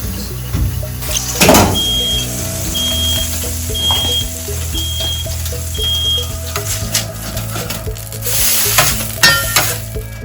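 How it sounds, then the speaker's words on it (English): A small meatball smashed and sizzling on a flat commercial grill, a loud sharp crackle when it is pressed down, then sustained frying hiss with scraping clatter and a repeating electronic beep, no talking. "So this is a little experiment, just taking a small meatball, placing it on the grill."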